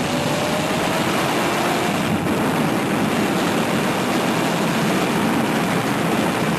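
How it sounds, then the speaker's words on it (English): A turbocharged Nissan 350Z race car engine drones at a distance, a continuous broad roar with little change in pitch, heard alone without talk. "this is my buddy racing the 350Z Turbo"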